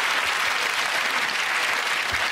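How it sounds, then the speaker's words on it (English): Studio audience of a British comedy panel show applauds in a dense, loud, even wash of clapping throughout. "Ironically, gets a round of applause for that"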